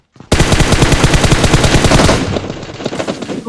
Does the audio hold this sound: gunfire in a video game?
yes